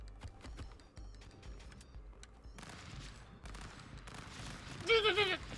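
Gunfire from the Stick Fight video game: a quiet run of rapid, clicky shots and bursts, building into a denser flurry near the end, with a person talking over it.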